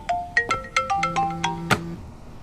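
A mobile phone ringtone plays a bright melodic sequence of chiming tones, about eight notes in a little over two seconds, clear and close with no talk over it.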